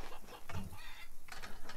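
Chickens cluck in the Farmer's Dynasty farming game, a short burst of fowl calls over a low background bed.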